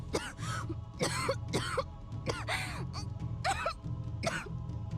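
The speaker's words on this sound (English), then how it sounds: "Ag, cough, wheeze." A character in the video game Hyperdimension Neptunia Re;Birth2 gives a run of harsh, raspy coughs and throat-clearing sounds, about six bursts in close succession over a faint low background tone.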